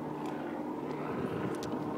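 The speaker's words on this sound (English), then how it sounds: "Look at that helicopter." A helicopter passes overhead on a hiking trail at Squaw Peak, heard as a steady low engine and rotor drone with a faint hum, moderately loud and continuous outdoors with no talking.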